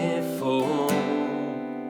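Acoustic guitar strums verse chords, with a few ringing strokes that sustain and overlap, close and clear with no voice.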